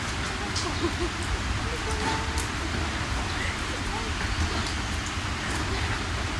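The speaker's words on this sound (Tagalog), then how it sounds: "Umuulan." Steady, dense rain hissing throughout on a hike at Jardine's Lookout and Braemar Hill, with faint voices underneath.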